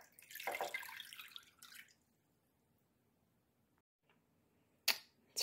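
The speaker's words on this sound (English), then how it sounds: "I'm going to add my 2 cups of water." Two cups of water poured into a slow cooker: a close, splashy gush for about two seconds, then quiet, followed by a brief sharp splash near the end.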